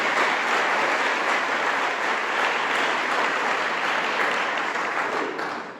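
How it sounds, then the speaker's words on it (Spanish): Sustained, dense applause from a church congregation at a Sunday morning service, steady and loud for several seconds before tapering at the end. "Vamos a dar un aplauso de gloria, de bienvenida, de gratitud al Señor"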